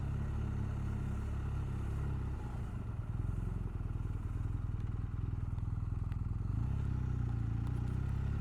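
A 2019 BMW R1250R motorcycle rides past thatched houses and flowers, its engine a steady close drone throughout with a low rumbling beat, the note dipping and then rising again as the bike accelerates.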